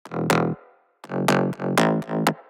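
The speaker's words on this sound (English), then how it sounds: "this sound in Serum is from the gritty wavetable in the digital section" A buzzy, gritty Serum wavetable synth bass plays short repeated notes with sharp attacks and quick pitch drops, dry and alone without effects.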